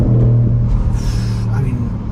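A new Audi RS6 with ceramic brakes accelerates hard from inside the cabin, its engine note rising in a deep rumbling surge while someone talks over it.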